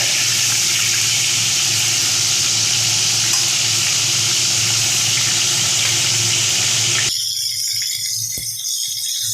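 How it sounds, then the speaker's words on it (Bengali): Fish head frying in oil over a high flame, reddening as it cooks: a loud, close sizzle with stirring rattles that stops abruptly near the end, leaving a faint quiet tail. "লাল লাল করে মাছের মাথাটাকে আমি ভাজা করে নিই"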